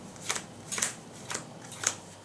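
Playing cards for a 40-card sealed limited game are shuffled in four quick riffle bursts spaced about half a second apart, soft and close, with no speech.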